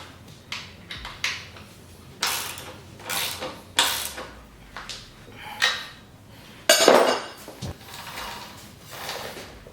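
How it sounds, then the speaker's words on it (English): A 17mm axle nut is tightened on a Talaria XXX electric motorbike's rear wheel, producing a series of close metallic clicks, ratcheting and clinks in irregular bursts, moderately loud with no speech. "Now I can fully torque down the 17mm nut on the axle bolt."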